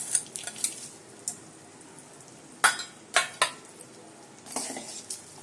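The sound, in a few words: stirring spices in a pan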